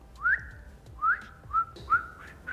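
A person whistles a short tune in several rising, slurred notes, each about a quarter second long with brief gaps between them, clear and close with no talk.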